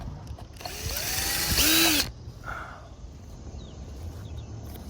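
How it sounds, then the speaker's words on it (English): A power drill whines loudly for about two seconds while drilling a hole in a sailboat, rising in pitch before cutting off, followed by quieter mechanical clicks and handling noise. "drilling more and more holes in my boat every day"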